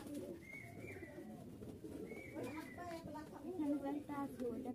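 Rajshahi Giribaj pigeons cooing, soft repeated throaty coos close by at low level, with a person talking quietly underneath.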